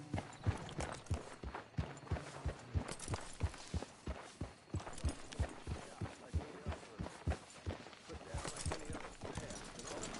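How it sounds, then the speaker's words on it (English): Horse hooves clip-clopping in the video game Red Dead Redemption 2, a steady rhythmic walking gait of close, distinct thuds over about ten seconds, with quiet speech faintly in the background. "Careful with that horse, Arthur."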